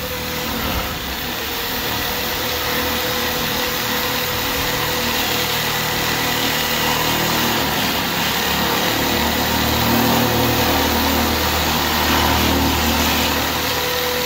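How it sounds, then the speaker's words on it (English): A power nibbler cuts steel metal roofing sheet in one continuous, loud, close buzzing whine with a dense metallic rasp, steady throughout with no pauses or talk. "it's like a nibbler"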